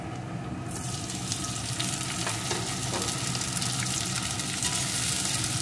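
Chopped vegetables with green chili and diced tomato fry in a pan, giving a loud, dense, continuous sizzle that runs the whole time, with a few faint scrapes. No one speaks.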